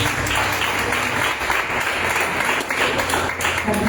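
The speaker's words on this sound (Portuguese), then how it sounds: "E as palmas do Senhor." A church congregation applauding together during a service, a dense, steady wash of clapping that fills the space throughout, loud and sustained with no break.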